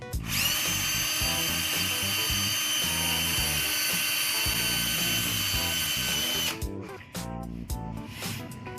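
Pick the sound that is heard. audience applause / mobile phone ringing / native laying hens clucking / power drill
power drill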